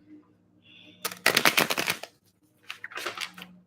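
A deck of tarot cards is shuffled twice up close, each a quick burst of riffling flutter separated by a short pause.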